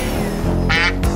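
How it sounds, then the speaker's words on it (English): A duck quacks in a children's animal programme, loud and close, with a sustained tonal bed underneath and two short bursts of quacking near the end. "Duck. You say duck."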